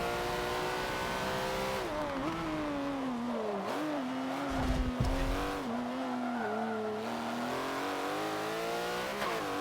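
Porsche race car in Forza Motorsport 7, its engine revving hard with rising and falling pitch as it shifts through gears, loud and close throughout, with brief tyre squeal mid-way.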